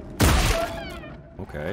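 A loud, sharp gunshot blast from the video game Scorn bursts out and then decays into a rumbling tail. A voice briefly speaks over the fading echo.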